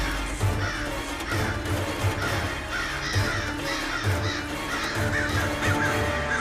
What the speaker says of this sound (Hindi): हे भगवान, कौवे।